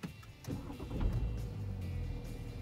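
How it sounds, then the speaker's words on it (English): BMW F10/F11 car being switched on, the engine catching and settling into a low, steady running rumble heard from inside the cabin, quiet overall. "Right, let's get in the car and turn it on."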